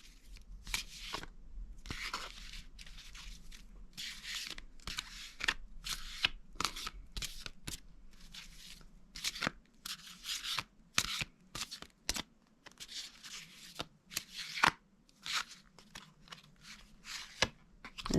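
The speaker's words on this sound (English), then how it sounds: "I'm going to try and get 3 cards out for you." Tarot cards being shuffled by hand, a steady run of crisp riffling and flicking bursts that grow more broken and choppy toward the end, close up and alone without talk.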